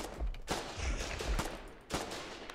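Gunfire in the zombie survival game Dead Harvest: several sharp shots with low booms, spaced irregularly over a few seconds, fairly loud against faint background noise.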